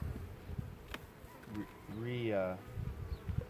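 A honeybee drone buzzes close by on a gloved hand at a top bar hive, its buzz rising and falling in pitch for about a second over a quiet background.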